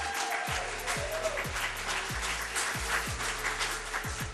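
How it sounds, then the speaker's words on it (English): Applause from an audience at a school lunch week awards ceremony, steady and fairly loud, with a repeating low thumping beat underneath. "Now let's give everybody a round of applause."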